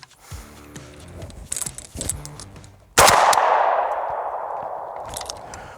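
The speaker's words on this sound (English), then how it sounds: "it is subsonic, so you're going without that crack of breaking the sound barrier." AK rifle firing subsonic ammunition: metallic handling clatter and clicks, then a single sharp, loud shot that rings out and decays slowly.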